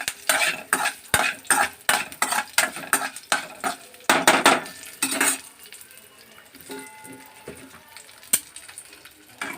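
Curry leaves dropped into a hot tempering of asafoetida in a pan with the stove just switched off, then stirred with a spoon: a run of loud, rhythmic metallic scrapes and clinks with a light crackle, easing into quieter sizzling toward the end.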